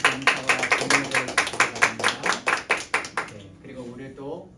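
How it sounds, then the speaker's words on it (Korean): A church congregation at a Sunday worship service claps to thank the accompanist, a rhythmic, fairly close run of about a dozen beats that fades out as a voice begins speaking. "우리 박애윤 자매에게 큰 박수로 감사와 고마움을"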